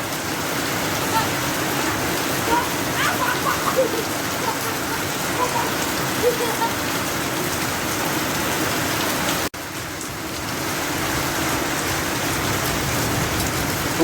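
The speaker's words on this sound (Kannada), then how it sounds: "ತುಂಬಾ ಜೋರಾಗಿ ಮಳೆ ಬರ್ತಾ ಇದೆ" Heavy rain with thunder and lightning in Terdal, Karnataka pours down steadily in a dense, even hiss on hard surfaces, with faint voices under the downpour.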